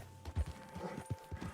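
Mahogany Bay Tennessee Walker horse in Red Dead Redemption, its hooves clip-clopping in a quick, uneven gait, faint and close with a steady hum underneath.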